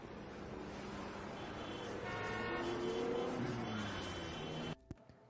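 Cars drive past on a road as a film sound effect, a steady traffic rumble with a passing engine swell near the middle. The noise cuts off abruptly near the end.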